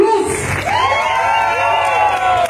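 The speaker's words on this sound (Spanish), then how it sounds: "Un fuerte aplauso y un saludo a Sonora" Crowd cheering and whooping for a blues band at a live festival concert, loud and continuous with shrill shouts and whistles sweeping over a dense roar of applause.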